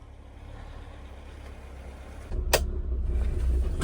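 A small Nissan Pao car idles with a low hum, then the engine note rises as it pulls away, with a sharp click or clunk partway through, moderately close.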